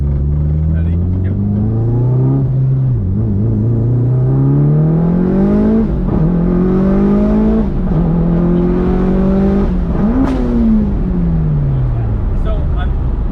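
Mitsubishi Evo 5 accelerating hard through several gear shifts from inside the car: a loud engine note climbs in pitch, dips at each shift, and rises again, repeating over about thirteen seconds.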